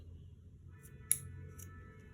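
Scissors make a single crisp snip through gown fabric, cutting out a sewing piece, set against a quiet low room hum with faint clicks nearby.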